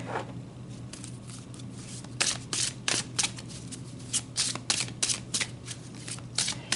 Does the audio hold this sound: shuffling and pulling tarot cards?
yes